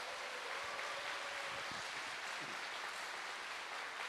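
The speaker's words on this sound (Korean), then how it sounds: "다시 한번 부산 지휘자 합창단과 지휘자 선생님 큰 박수 부탁드립니다." Audience at a Busan Conductors' Choir concert applauding the choir and its conductor: a dense, steady wash of clapping that holds at an even level throughout with no break.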